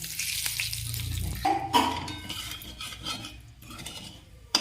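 Whole spices, bay leaf, cardamom, cloves and a small cinnamon stick, sizzle in hot oil in a pan, with a close crackling hiss, a few utensil clinks and stirring scrapes.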